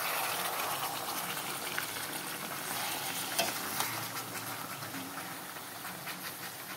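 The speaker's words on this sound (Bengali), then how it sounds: "বন্ধুরা দেখো ঢাকনাটা সরিয়ে এখন একটু নাড়াচাড়া করে দেব।" Pieces of chicken stir in an uncovered pot with a loud, continuous sizzle, and a spoon scrapes and clatters through the frying meat the whole time.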